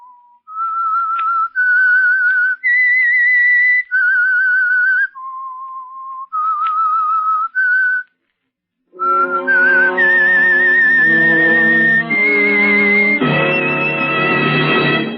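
A clear, loud whistled signal tune of sustained notes opening an old radio drama, then a brief pause, and then orchestral music swells in to carry the melody.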